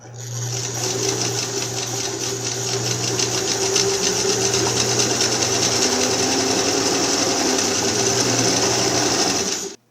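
A sewing machine runs a seam with reverse stitching at the start and end, giving a steady, close, continuous mechanical whir with a fine rapid rattle for the whole stretch, with no talk.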